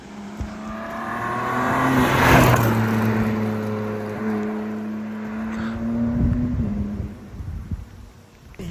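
A modded BMW G87 M2 does a burnout on a back road, its engine rising in a loud, sustained rev with a tire roar peaking early, then easing, surging again and fading away.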